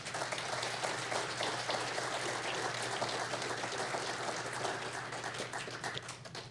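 Steady broadband applause from an audience fills the whole stretch, dense and continuous at moderate level with no clear voices on top, honouring cute robots after an AI talk.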